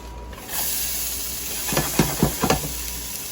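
Chopped onions, poblano peppers and celery hit hot oil in a pan and set off a steady hiss and sizzle, with a few utensil knocks against the pan as they are stirred.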